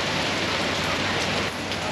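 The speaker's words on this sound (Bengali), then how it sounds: "এই বৃষ্টি পড়ছে, চরম বৃষ্টি চলছে এখন বাইরে" Heavy rain pours steadily outside at a sea beach resort, a dense, close, continuous hiss of drops striking surfaces with no break.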